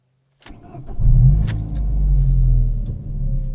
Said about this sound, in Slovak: Ani si nepamätám, keď som naposledy šoféroval auto, ktorý by mal takýto zvuk podľa toho klasického receptu.